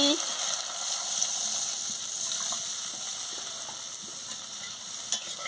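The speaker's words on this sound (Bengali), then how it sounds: "আমি পরিমাণ মতন জল দিয়ে দিচ্ছি।" Water poured into a hot pan of spiced soybean fritter curry, producing a broad steady hiss and bubbling sizzle that holds evenly throughout, with a single sharp clink near the end.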